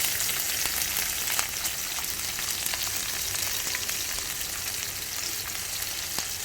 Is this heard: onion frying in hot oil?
yes